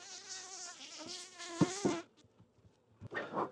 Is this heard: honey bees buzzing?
yes